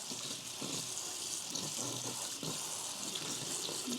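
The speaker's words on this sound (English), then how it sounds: "I'll go ahead and wash the kale." Kale leaves are rinsed under a running tap at a sink, a soft, continuous stream of water splashing over the greens with faint irregular patters, heard alone without speech.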